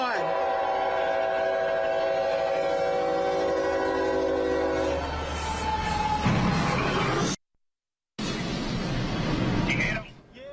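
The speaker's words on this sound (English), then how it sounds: "this speeding freight train slammed into the side of an 18-wheeler" A speeding freight train with a long, loud horn blast, then a rumbling crash as it slams into the side of an 18-wheeler truck, a brief silent cut, then continued heavy noise.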